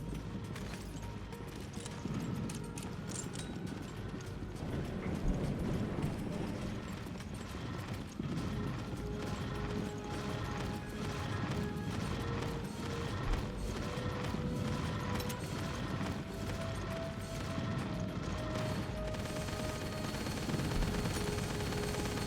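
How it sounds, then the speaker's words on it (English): A fast elevator in Resident Evil Revelations Raid mode, on the Terragrigia stage, moves with a steady mechanical rumble and rattling clatter. Faint tonal hums run underneath throughout at a low, even level. "Whoever calibrated this elevator did a much better job than that slow one"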